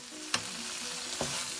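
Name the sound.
tripe with onion and garlic being stir-fried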